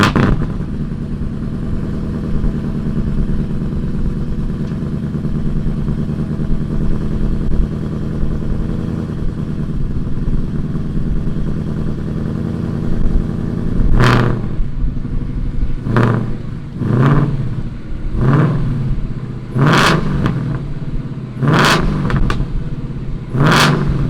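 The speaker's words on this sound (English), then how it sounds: "let's go ahead, fire this Revenge GT up and see what it sounds like" A Revenge GT car engine idles steadily and loudly at close range, then gets several sharp revs in quick succession in its second half.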